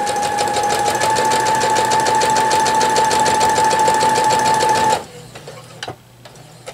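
Domestic sewing machine stitching a bow tie quilt block, a loud steady rapid mechanical whir with a fast even needle rhythm for about five seconds, then stopping to near quiet with a few faint clicks and handling noises.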